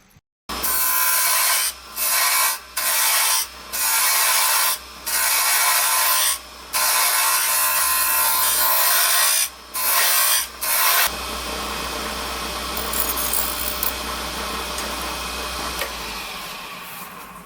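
A lathe turns a spigot on a wooden salt and pepper mill body from a project kit. Loud, close tool-on-wood scraping comes in repeated short bursts, then settles into a steadier, quieter whirr for the last several seconds.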